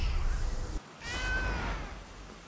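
Cat meowing in the video game Blacktail, one drawn-out wavering meow rising over a low game ambience after a brief drop in the background sound.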